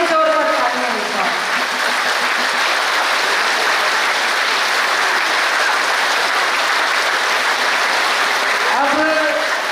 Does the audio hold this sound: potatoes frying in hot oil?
no